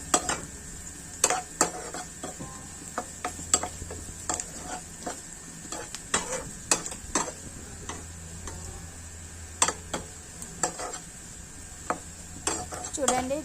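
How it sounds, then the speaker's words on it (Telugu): Curry leaves fry in hot oil in a pan with a constant soft sizzle, broken by frequent sharp ticks and pops and the odd scrape of a stirring utensil. "కరివేపాకు వేసుకుంటున్నానండి నేను ఇందులోకి. చూడండి వేయించుకుంటున్నాను అవి."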